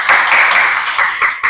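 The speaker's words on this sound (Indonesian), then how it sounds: "tepuk tangan untuk Wilda ya" A classroom group claps for a student, a burst of brisk, even applause that carries on steadily for a moment.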